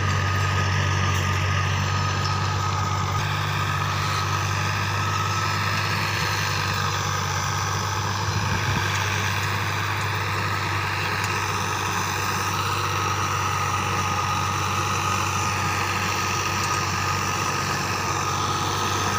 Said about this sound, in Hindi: और ट्रैक्टर भी छोटा है इंदा